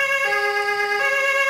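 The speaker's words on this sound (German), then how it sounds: "Natürlich mit dem Rettungswagen." An ambulance siren wails steadily and loudly, its two-tone pitch switching twice, with no voices over it.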